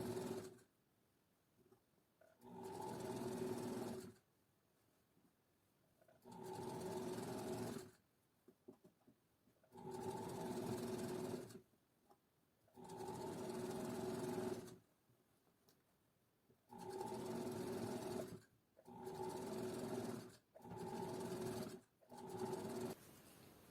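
A sewing machine topstitches a garment seam in repeated bursts of steady whirring, each run lasting a couple of seconds and separated by short pauses, close and clear with no talking.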